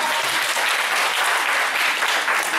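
Church congregation applauding and cheering to acclaim God, a dense, steady wash of clapping from a large crowd filling the whole stretch.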